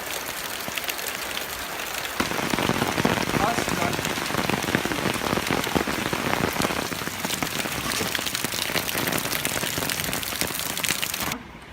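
Rain pours steadily outdoors on a Sunday, a dense spattering hiss on surfaces that swells after a quieter opening and holds loud and constant until it cuts off at the end.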